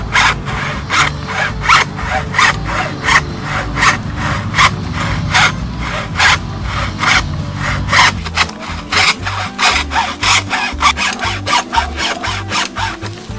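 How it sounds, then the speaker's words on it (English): A hacksaw cuts deeper into a bamboo stalk, working around a circular groove: steady, close back-and-forth rasping strokes in an even rhythm, loud and continuous with no talk. "So now I'm going to take the hacksaw, go back to where I started,"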